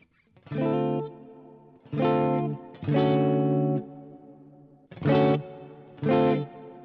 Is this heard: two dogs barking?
no